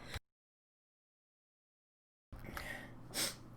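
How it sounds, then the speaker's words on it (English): A single sharp sneeze bursts out close by after a stretch of silence, followed by a breathy exhale. "I'm going to sneeze, so hold on."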